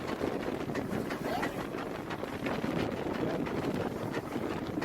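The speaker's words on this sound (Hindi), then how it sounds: "भाप का इंजन है।" The Fairy Queen, the world's oldest working steam locomotive, runs with a steady, loud broadband roar of steam and rolling noise that fills the whole stretch, close and continuous, without pauses.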